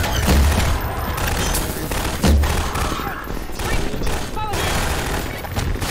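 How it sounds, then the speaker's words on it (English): Gunfire rattles through a gate in Half-Life 2, with loud, rapid bursts and heavy booms mixed with game combat noise, and a voice talks over it. "we can shoot through the gate"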